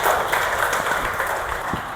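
An audience applauding a teacher at a school function, a short burst of dense clapping that stays fairly loud and even across the whole moment.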